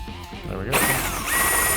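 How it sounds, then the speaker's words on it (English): A power drill spins up with a loud, steady whine as it bites through wood, preceded by a brief murmur of a voice. "Now when I drill through these, it should just punch through into my other hole."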